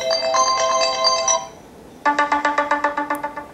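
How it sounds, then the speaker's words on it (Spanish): A bright electronic iPhone ringtone melody plays, pauses briefly, then a second tinkling chime pattern repeats in quick rhythmic pulses. "cambiar el ringtone del teléfono de este iPhone"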